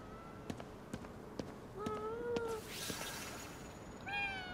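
A cat in the video game GhostWire: Tokyo gives a couple of clear meows, the second rising near the end, over soft footstep taps and ambient game sound.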